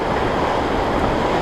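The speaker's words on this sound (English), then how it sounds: "You can hear the current river raging there." River current raging at Trowbridge Falls after heavy rain, a dense, steady roar of rushing water heard at night from a trail, loud and unbroken with no voices.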